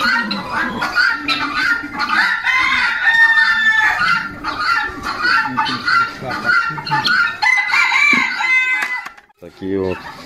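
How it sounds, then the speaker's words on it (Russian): Chickens cluck and squawk busily close by while a rooster crows over them, a dense farmyard chorus that drops away briefly near the end. "Такие вот куры."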